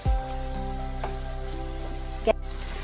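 Pumpkin pieces fry uncovered in a pan, giving a faint steady sizzle over a low droning hum, with a knock at the start and a brief clatter near the end.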